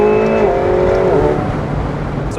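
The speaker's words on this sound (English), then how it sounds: "Little third gear pull." A McLaren 720S Spider pulls hard in third gear, its loud, close engine holding a steady tone before the pitch shifts partway through, with no voices.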